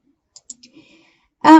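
A single computer mouse click while saving an exported layer file in QGIS, a short sharp burst near the end after a few faint tiny ticks, close and alone with no talk.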